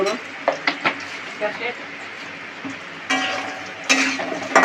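Panch phoron spices hit a pan of fried potatoes, and bursts of sizzling mix with sharp scrapes and knocks of a spoon stirring against the pan.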